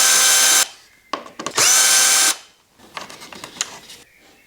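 A power driver spins out T30 screws on a KTM 1290 Super Adventure S motorcycle in two loud, sustained whirring bursts, followed by quieter clicks and rattles as the screws come loose.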